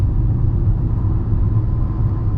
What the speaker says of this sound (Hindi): देख ही रहे हो इतनी स्पीड में भी ओवरटेक कर रहा हूँ